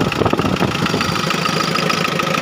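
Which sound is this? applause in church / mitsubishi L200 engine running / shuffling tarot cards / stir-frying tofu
mitsubishi L200 engine running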